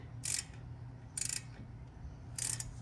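Ratchet wrench tightening a bolt on a 2014 Toyota Highlander front brake caliper during a pad change, three short crisp ratcheting bursts spaced about a second apart, close and quiet with no talk.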